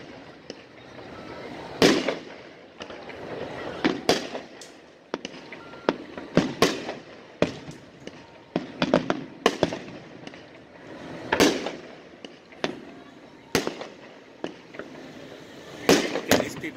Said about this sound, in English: Look at these people trying to upstage the real fireworks.